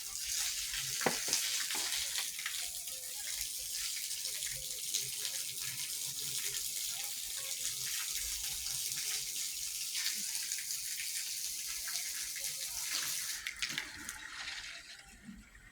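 Water rushes steadily through a water softener plant being washed by hand, a continuous broadband hiss with a few knocks early on, running alone without voices.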